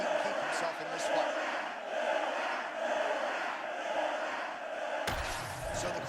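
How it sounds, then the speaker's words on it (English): In the UFC 6 video game, an arena crowd roars between rounds with a continuous, dense wash of cheering, steady and loud, ending with a sharp slam or hit. "So the crowd voicing its appreciation after that round"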